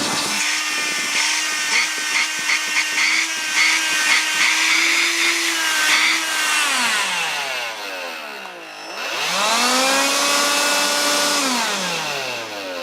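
A repaired Electrolux Ergorapido Lithium stick vacuum motor runs loud and close with a high whine, spins down with falling pitch, then revs back up and runs steadily before easing off.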